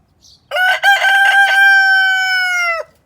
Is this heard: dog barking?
no